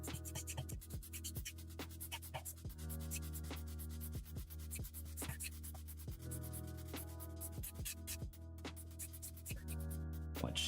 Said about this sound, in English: this is why we have this tool here, which is a sand eraser, because we can just easily do that